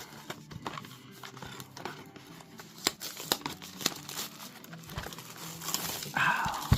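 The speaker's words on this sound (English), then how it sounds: "let's start unwrapping" A Star Wars Unlimited card box being unwrapped close by, with steady crinkling and tearing of plastic wrap in irregular bursts that grow louder toward the end, and no talking.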